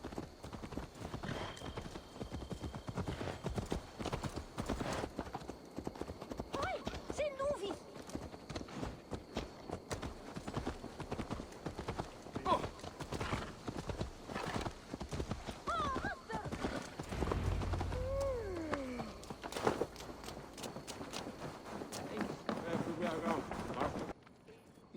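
Horse hooves clip-clop steadily in Assassin's Creed Valhalla, the rhythmic footfalls running through the whole stretch alongside in-game voices talking and occasional whinnies.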